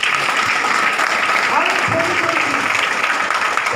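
A room full of people claps steadily at a motivational sales meeting in Goa, a dense, even patter of applause with a voice talking briefly underneath.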